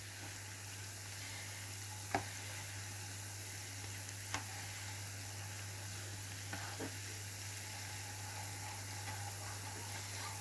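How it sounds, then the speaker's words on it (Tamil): Ten vadas frying in hot oil give a steady, quiet sizzle and hiss, with a few faint clinks breaking in now and then. "10 வடை இந்த எண்ணெயில் கிடந்து தந்து கொண்டிருக்கின்றார்."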